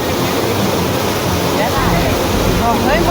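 Floodwater surging with rough, roaring waves in Valsad, Gujarat, a steady loud broadband rush with wind-like noise throughout and faint voices mixed in near the end.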